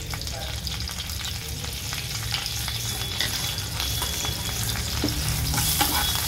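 Spices crackling and sizzling in hot oil as a tempering for sasav, a Maharashtrian mango dish, with steady frying and stirring noise throughout, close and fairly loud, no talking.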